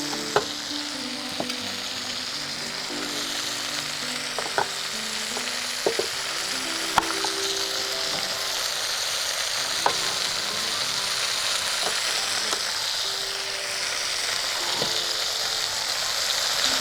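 Garden onion frying in oil in a pan for chalta chicken makes a continuous even sizzle, with occasional faint clicks and taps of stirring over it.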